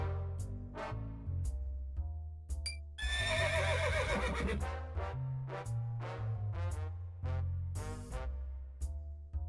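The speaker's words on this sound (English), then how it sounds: "Congratulations, you've caught Jiminy's horse." Horse neighing in the video game Sakura Wars, a loud drawn-out whinny in the middle with shorter snorts and nickers around it, over game sound effects and music, with no talk.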